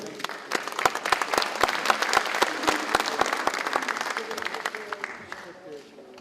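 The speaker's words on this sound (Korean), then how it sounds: "큰 박수로 맞이해 주시기 바랍니다." Applause at a joint meeting of party committee members and newly elected 20th National Assembly members, a dense room of clapping with sharp individual claps standing out, steady and loud throughout, then thinning slightly toward the end.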